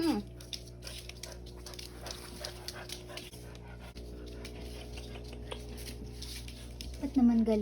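A puppy whimpers and pants in short, soft bursts close by, against a steady low hum, while people talk over it.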